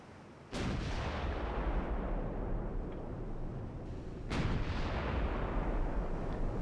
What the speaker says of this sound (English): Battleships have opened up, but they only have 2 12-inch guns each.